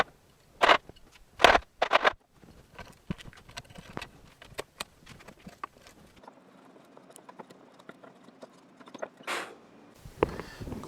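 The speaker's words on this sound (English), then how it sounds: "Now it's just a matter of chiseling it out." A wood chisel works by hand on a cutoff for a Morris chair: a few sharp mallet strikes, then quieter scraping taps and small paring knocks, close by in a quiet workshop.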